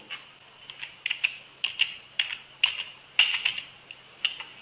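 A search gets typed on a computer keyboard in quick, irregular bursts of close key clicks against a quiet room.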